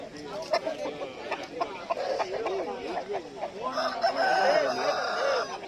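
A rooster crows near the end, with chickens clucking around it and people talking throughout, at an outdoor poultry market selling roosters and country chickens.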